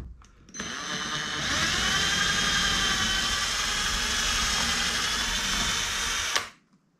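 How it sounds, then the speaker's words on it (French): A power drill bores into a diorama layout, a loud close steady whirring drone that starts abruptly, holds for about six seconds and then cuts off. "Je perce quand même sur mon réseau."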